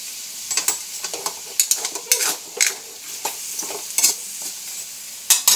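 String beans with green chili are stirred in a hot pan. A spatula scrapes and knocks in irregular strokes over a soft, constant sizzle, close up, with no talking.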